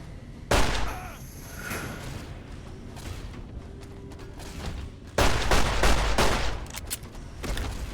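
Gunfire in Fallout New Vegas, a sharp loud shot followed by scattered mechanical clatter, then a second heavy burst of rapid fire near the end, with game ambience between.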